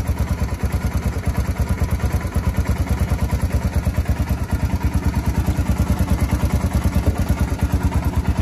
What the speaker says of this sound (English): doing our engine video on this Honda FOURTRAX 300